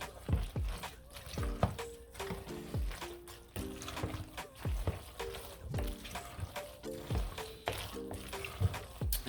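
Egg yolk being stirred into a pot of melted cheese for Southern-style mac and cheese, a soft, sticky squelching and scraping that repeats in a steady rhythm under faint background tones.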